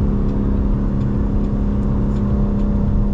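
A car engine held at steady high revs, around four thousand rpm, drones loudly and evenly throughout while the car is driven for data logging, with no talking.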